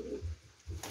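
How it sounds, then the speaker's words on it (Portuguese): Soft, low pigeon coos close by as the bird is stroked by hand on a farm, two short murmuring bursts separated by a brief pause, with no talking over them. "Gostou do pombo."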